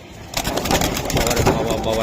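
Club racing pigeons coo softly in a loft, a close, rough burbling that runs over shuffling and handling noise, with a voice talking nearby.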